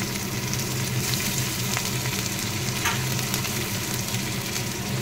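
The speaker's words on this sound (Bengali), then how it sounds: "এর মধ্যে একটু পেঁয়াজটা ভাজা হয়ে যায়" Onions sizzle steadily in hot oil, a dense, even crackle up close with a faint clatter of stirring partway through.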